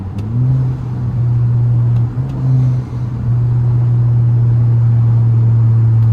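A car engine hums low and steady from inside the cabin, with a brief dip and re-rise in pitch as the driver drops a gear, then settles into a strong, even drone.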